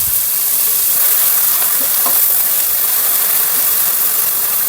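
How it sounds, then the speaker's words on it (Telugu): Cinnamon bark and three cloves fry in hot oil for a mushroom masala curry, making a constant, loud, close sizzling hiss without any talking. "ఇందులో కొంచెం చెక్క, అలాగే ఒక 3 లవంగాలు వేసుకోవాలి. కొంచెం ఫ్రై అవ్వనిద్దాము."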